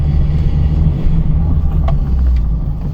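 A 45 hp 1990 Peugeot 205 Junior pulls away after a gear change, its small engine giving a loud, steady, close low rumble that holds throughout with no voices.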